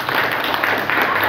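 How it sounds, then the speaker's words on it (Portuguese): Brief, loud burst of applause from a school audience in Maringá, Paraná, many hands clapping at once in a dense close wash, with crowd murmur mixed in. "13º, pode aplaudir."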